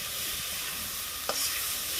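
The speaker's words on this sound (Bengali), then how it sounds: "আমি কিন্তু ভালো করে নেড়ে চেড়ে দিচ্ছি।" Shrimp and ash gourd curry is stirred in a hot pan, giving a steady close sizzle with one sharp scrape of the spoon partway through; no one speaks.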